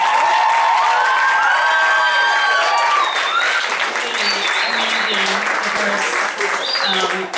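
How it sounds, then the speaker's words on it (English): Audience at a battle-of-the-bands show applauds a teen band with loud, sustained clapping mixed with cheers and scattered shouts, filling the room steadily from start to finish. "Can we give a huge round of applause for this amazing group?"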